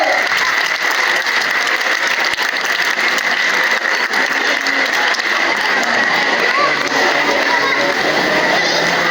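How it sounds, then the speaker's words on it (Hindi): Parents at a school annual day celebration applaud in steady, sustained clapping that fills the hall, with faint voices underneath. "Parents, please clap."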